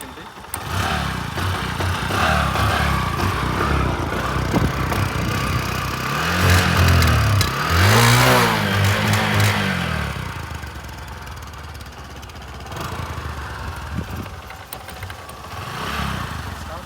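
A 2018 Bajaj Discover 100cc motorcycle with 59,000 km on it runs steadily throughout, its mid-pitched engine held close and loud, with a brief swell of revving near the middle and the note settling back afterward.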